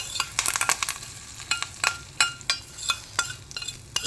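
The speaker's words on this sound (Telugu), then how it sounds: "ఇలా వేగాలి పోపు." Spices tempering in hot oil with asafoetida and curry leaves, made for a raw mango, coconut and yellow gram chutney: a close, crackling sizzle broken by irregular bursts of stirring and scraping, with no voices.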